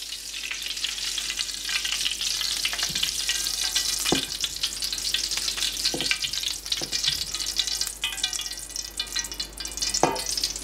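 Steady, dense sizzling of margarine and oil frying in a pan, continuous and fairly loud, with a few faint clicks and scrapes along the way.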